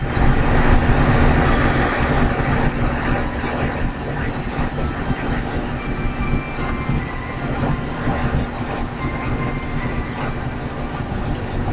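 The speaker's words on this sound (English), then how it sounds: "for cutting the crown, I'm going to use a 1200 lap, a very fine lap, since the stone is so small" A faceting machine with a fine 1200 lap cuts the crown of a tiny tourmaline, giving a steady, loud, continuous whirring grind with a constant motor hum throughout and no voices.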